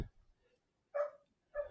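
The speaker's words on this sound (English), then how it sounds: "My dog is loudly protesting because she thinks she's not included in something." A dog gives two short, faint yips or barks in protest, spaced about half a second apart, heard from some distance in a quiet indoor room.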